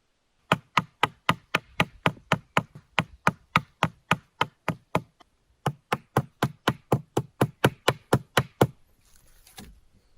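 A stone hand axe chops into wood at an angle to form a V cut. About thirty sharp, evenly spaced knocks sound close and loud, with one brief pause midway and a faint rustle after the last blow.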